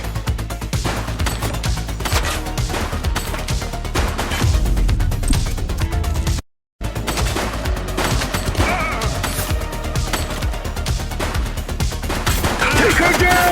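Gunfire erupts in the police game The Precinct, dense bursts of shots over loud continuous music and effects, with a brief dropout midway.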